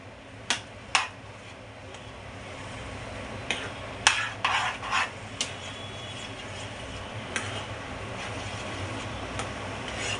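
Coconut sautéing in a pan for Chettinad sweet ukkarai, with cardamom already added, sounds as a scatter of sharp spoon or spatula clicks and scrapes against the metal, clustered in bursts over a steady low background hum.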